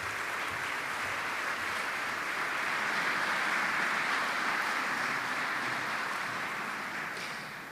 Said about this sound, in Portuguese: Batam-lhe muitas palmas